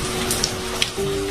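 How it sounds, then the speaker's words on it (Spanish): A steady hiss of rain with a few soft drops ticking nearby, plus a faint constant hum underneath. "Miren, lluvia."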